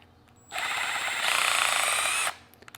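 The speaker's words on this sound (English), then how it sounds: "You may need to switch over to a drill with a hex bit on it." Power drill fitted with a hex bit driving a screw into a threaded insert in a wasteboard, a steady high whine for close to two seconds, with the pitch rising as it spins up, then stopping abruptly.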